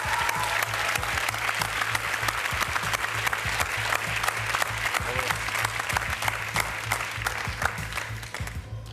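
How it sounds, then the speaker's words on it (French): Sustained applause from a studio audience at a French television contest finale, dense and even clapping throughout about nine seconds, fairly close, over a low constant hum. "On peut applaudir quand même, bien sûr, d'avoir participé."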